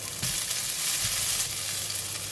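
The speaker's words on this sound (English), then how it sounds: "Now we're going to fry the vegetable." Vegetables sizzle in hot oil in a pan, a steady, loud hiss throughout with faint stirring bumps and no talk.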